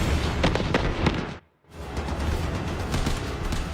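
Anti-aircraft guns firing over Los Angeles in 1942, a dense rumbling barrage of booms and blasts, with a brief dropout in the middle before the heavy roar resumes.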